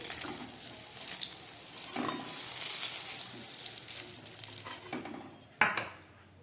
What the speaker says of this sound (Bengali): বেগুনগুলো হালকা ভাজা হয়ে গেছে, এগুলো সবজির মধ্যে দেবো বলে একটু কম ভাজলাম। বেগুনগুলো তুলে ফেলছি।